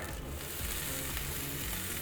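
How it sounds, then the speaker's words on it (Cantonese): Broccoli frying in a little oil in a flat pan over medium heat, giving a steady, close, continuous sizzle with fine crackle throughout and no talking. "然後咧，我哋仲用呢一個中火咧，由佢喺度煎一煎"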